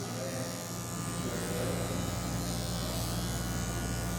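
An electric hair clipper buzzes continuously and close up while trimming a fade haircut in a barbershop, a steady droning hum with slight changes as the blade moves through the hair.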